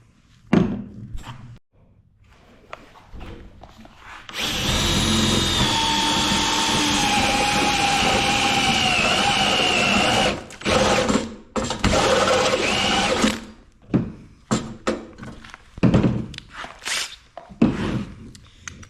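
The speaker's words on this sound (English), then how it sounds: "So I started with a unibit, and then finish it off with the 3/4" A unibit step bit drilling a hole during a generator transfer switch install, a sustained whirring drill run of several seconds with brief restarts, framed by clunks and handling knocks.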